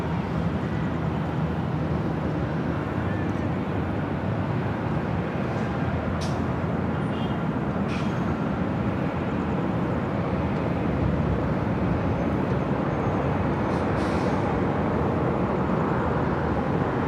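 United Airlines A320 airliner arriving at LAX from San Francisco, a distant, steady broadband roar of jet engines and rushing air that holds at a constant level throughout.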